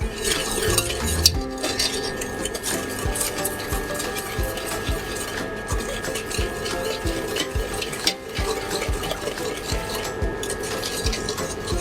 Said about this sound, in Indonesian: Dan kita aduk hingga merata.